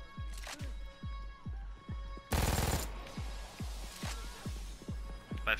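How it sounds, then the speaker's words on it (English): MG42 machine gun firing in the video game Payday 2, a steady stream of rapid punchy shots that pulse in regular short groups, with one brief louder burst of noise in the middle. "this time around I will just use the MG42"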